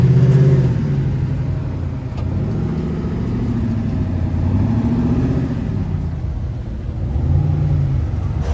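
Off-road vehicle climbing a steep, off-camber rock trail, its engine droning and rumbling steadily with slight revving swells, close and continuous throughout.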